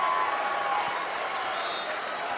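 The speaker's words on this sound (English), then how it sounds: "the Treynor crowd extremely excited right now, up on their feet" The Treynor home crowd cheers and applauds at a girls' state volleyball quarterfinal, a continuous loud roar of voices and clapping filling the gym.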